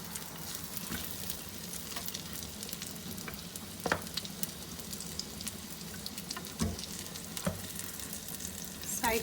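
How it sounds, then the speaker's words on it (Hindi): Thin chicken pieces frying in about two tablespoons of oil in a pan, a continuous close sizzle with scattered pops and crackles, no voices. "ये चिकन के पीसीस फ्राई करेंगे"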